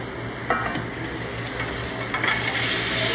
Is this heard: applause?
no